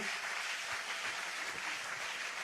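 Church congregation applauding during a worship service, a steady, dense wash of clapping filling the room without pause, no distinct voices standing out.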